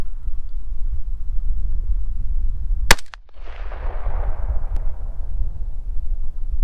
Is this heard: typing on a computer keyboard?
no